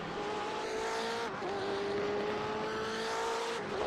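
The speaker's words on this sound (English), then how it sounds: "You hear this kind of weird sound of the engine right there. That is the traction control, the stability control of these cars." Simulated BMW race car engine in iRacing, droning loud and steady with a pitch that dips and stutters as traction and stability control cut in, continuous throughout.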